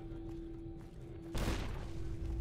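A grenade blast in Fallout New Vegas, a sudden heavy boom midway that cuts through a steady tonal game hum and leaves a rumbling tail.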